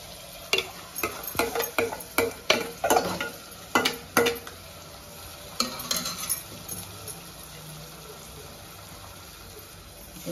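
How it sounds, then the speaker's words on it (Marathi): Ground masala paste with kasuri methi and coriander is sautéed in a pan for a mutton dish, a spoon scraping and stirring in quick clattering strokes over a soft sizzle, then a quieter stretch of gentle frying. "हे चांगलं परतून घ्यायचं"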